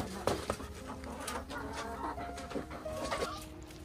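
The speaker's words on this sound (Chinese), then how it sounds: "又掰了点白菜叶哈，继续喂鸡" Farm chickens clucking while being fed cabbage leaves, several birds giving short overlapping clucks and calls close by, fairly quiet, with no talk.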